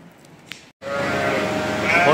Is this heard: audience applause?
no